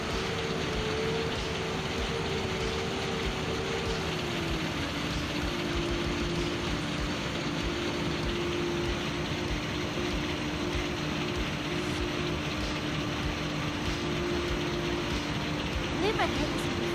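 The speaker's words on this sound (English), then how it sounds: "I've heard this truck somewhere." In Farming Simulator 19, a truck engine gives a steady, continuous drone that shifts pitch once early on and then holds even. It stays fairly loud throughout, with a voice speaking over it.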